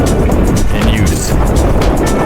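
Vehicle driving along a remote forest road during a solo Arctic trip, giving a steady, loud rumble of engine and road noise throughout with no break.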